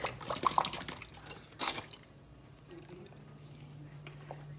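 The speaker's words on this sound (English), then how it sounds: "take some of the water and I'm gonna pour on the turkey to moisten so it doesn't turn out really dry" Water is poured over a turkey being prepared for a Thanksgiving dinner, giving a short close splash and trickling drips at first, then fading to a faint, quiet background hum.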